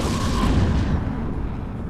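A spaceship blows up in the space game EVE Echoes, a loud, dense booming blast that rumbles and then slowly fades over about two seconds.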